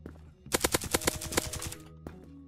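Rapid burst of auto pistol gunfire in the video game Krunker.io, about a dozen sharp shots in quick rhythm lasting roughly a second, loud and close, followed by a couple of faint clicks.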